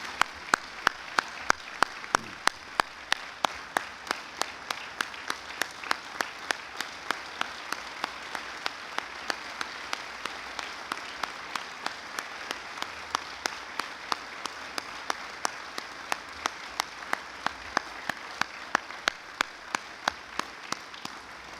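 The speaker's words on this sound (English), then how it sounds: "Now please join me in another big round of applause for all of the 2017 Hall of Fame inductees." Long round of applause for 2017 Raleigh Hall of Fame inductees at an awards ceremony, steady hall-wide clapping with sharp regular claps standing out close by, continuing evenly for about twenty seconds.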